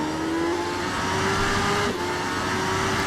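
Superbike engine revving up hard while accelerating out of a corner in the racing game RIDE 3, a steady loud whine rising in pitch and continuing without a break.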